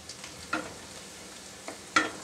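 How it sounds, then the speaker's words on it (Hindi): Garlic frying in a little hot oil in a pan, heard as a soft, steady sizzle with occasional stirring scrapes, close and fairly quiet. "और थोड़ा सा ऑयल गरम करेंगे, उसमें लहसुन डालेंगे हम"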